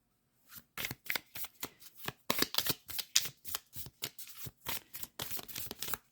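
Oracle cards are shuffled by hand in a quiet room, a rapid run of crisp riffling and slapping bursts that repeats steadily for several seconds, close and alone with no voices.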